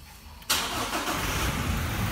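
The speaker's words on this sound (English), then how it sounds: "Let's start the car." A car engine cranks and catches about half a second in. It then settles into a steady, close, fairly loud running note with no talk over it.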